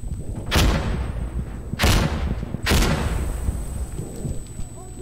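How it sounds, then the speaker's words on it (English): Explosions in the video game Insurgency Sandstorm, three heavy booming blasts spaced about a second apart, each with a rumbling tail over a constant background rumble. "Ah, oh, wow, I'm exploding."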